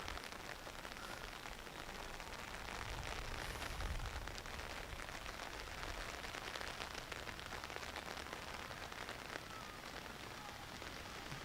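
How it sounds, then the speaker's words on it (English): Rain that is easing off falls across an outdoor golf croquet lawn during a European championship final, a steady, dense patter of drops that stays even throughout with no talk. "The rain is easing off at least"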